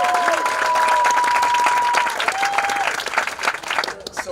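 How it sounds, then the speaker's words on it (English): An audience at a winter cup event bursts into a loud round of applause that thins out to scattered claps after about two seconds, with a few whistles over it. "can we just give a massive round of applause to Joshua Holmes?"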